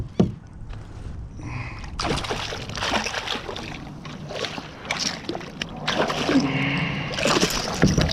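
A bluefish splashes and thrashes in the water beside a kayak, with bursts of sloshing and spray and a person's excited voice at moments, all close by.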